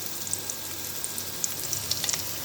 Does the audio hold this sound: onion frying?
yes